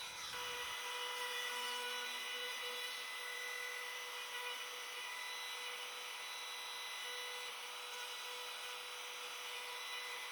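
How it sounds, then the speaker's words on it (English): A router cuts door hinge recesses in wood, guided by a hinge jig on a door and frame, a loud continuous high-pitched motor whine with steady cutting noise, near and unbroken for the whole stretch. "I use a Mousecraft door hinge jig as a template to cut out the space for the door hinges on"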